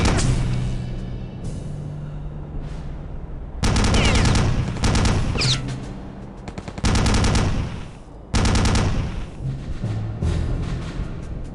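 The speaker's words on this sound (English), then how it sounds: "I guess I could just shoot and watch them come to me" Rapid bursts of automatic gunfire from shooting enemies in Return to Castle Wolfenstein, loud repeated volleys separated by short pauses, with fainter shots and echoes between the bursts.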